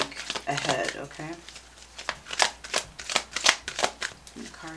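Tarot cards shuffled by hand at close range, a run of crisp riffling flutters and soft slaps in quick irregular bursts, with a voice talking over the first part.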